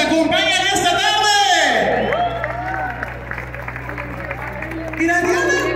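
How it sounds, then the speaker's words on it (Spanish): Crowd applauding and cheering at a presidential candidate's outdoor campaign event, loud and sustained, under an amplified announcer's voice calling for applause, then easing before swelling again. "Desde luego los aplausos para toda la comitiva que nos acompaña en esta tarde."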